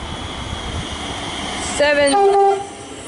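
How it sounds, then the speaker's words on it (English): A Siemens suburban train set arrives near a highway overpass, a steady rumble building and then giving way to high, squealing wheel or brake tones for the final second or so, close and fairly loud. "there is a Siemens set arriving, about to pass under the Pacific Princess Highway"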